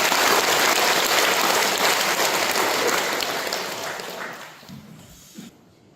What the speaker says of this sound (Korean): 박수를 올리겠습니다.